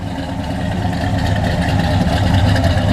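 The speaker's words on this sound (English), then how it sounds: "It's a great sounding car." A 1966 Pontiac GTO coupe with Tri-Power carburetion and a mild cam idles close by, a loud, steady, lumpy rumble that stays even throughout with no talk over it.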